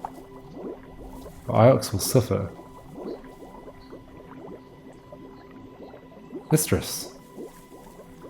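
In the Heaven's Vault video game, rising water bubbles and gurgles steadily in the background with two louder surging bursts, while a character speaks over it.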